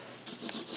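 A marker drawing a design on paper gives a short, faint scratchy rub lasting under a second, close by and alone.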